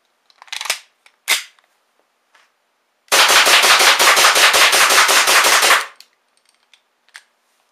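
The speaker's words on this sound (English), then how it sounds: "Alright, rapid fire test on the bottom target" A WE MEU gas blowback airsoft pistol fires 15 rounds rapidly from 15 feet, a dense rattling burst of sharp shots lasting a few seconds, preceded by a couple of isolated clicks and followed by faint handling noises.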